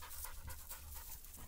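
Hunting dogs out on a woodcock hunt, heard panting steadily and close, with quick rhythmic breaths running through the whole moment and no one speaking.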